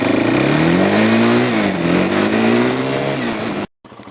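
A 2003 Suzuki LTZ 400 ATV engine roars loud and close while riding in third gear, its pitch rising and dipping steadily before cutting off abruptly near the end.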